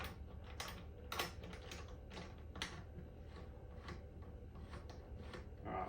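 Clamp being refastened onto the gas post of a Fermzilla pressure fermenter: a series of close, quiet clicks and plastic ticks, irregular and sparse, with no voices.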